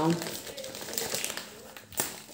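A plastic package of grated parmesan is torn open in a kitchen, giving close crinkling and rustling with a sharper rip near the end, while someone talks over it.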